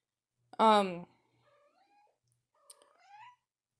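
A house cat named Jewel gives one loud, drawn-out meow, followed after a pause by a couple of quieter, chirpy trilling calls in a silent room.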